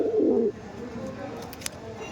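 Rampuri pigeons coo in a low, throaty burst at the start, loud and close, then fall away to quiet rustling and faint background noise for the rest.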